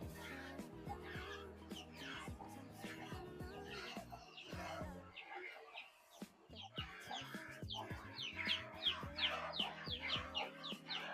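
A grandmother's chickens cluck and chatter in a village barn in Azerbaijan. Several birds make repeated close, overlapping clucks, with a brief lull midway before the calls pick up again, busier and louder.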